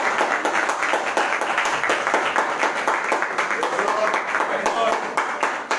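A church congregation claps in quick, regular rhythm, the sharp beats running steadily throughout with voices mixed in beneath.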